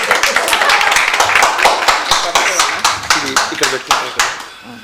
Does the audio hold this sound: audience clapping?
yes